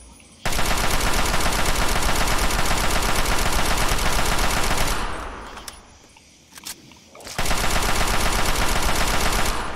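An automatic rifle in Fallout 3 fires rapidly and loudly in long sustained bursts. A short pause with a few scattered shots breaks up the firing, and then another extended burst follows.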